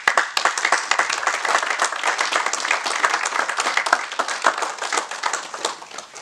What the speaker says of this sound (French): qui peut se lever, on peut l'applaudir